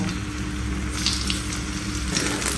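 Dried fish fritters sizzle in hot oil, a dense, steady hiss and crackle that stays loud and close throughout.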